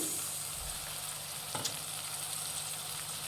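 Chilli chicken sizzles steadily in a hot pan as soy sauce is added, a constant close frying hiss with a soft stir or splash partway through and no talking.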